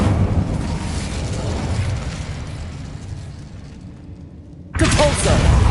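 An Incendio fire spell from Hogwarts Legacy bursts in a loud, rushing roar that fades over several seconds, then another blast erupts near the end.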